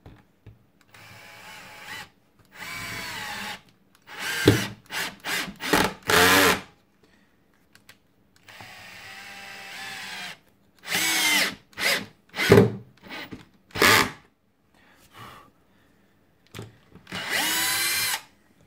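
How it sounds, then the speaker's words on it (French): A Bosch GSR 12V-15 FC cordless drill driver drives screws into melamine board without a pilot hole. The motor whirs in repeated bursts of a second or two, some short and stuttering, with pauses between them. "Si on prend du mélaminé, même sans l'avoir prépercé, et qu'on visse dans ce bois"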